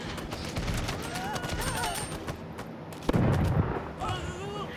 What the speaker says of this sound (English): There, that's how you use a cannon!